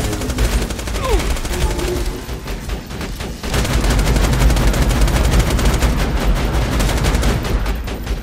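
A Borderlands 2 sentry turret fires loud, rapid bursts of gunfire in the pirate DLC. The rattling volleys roll on almost continuously, with a short lull before the firing picks up again.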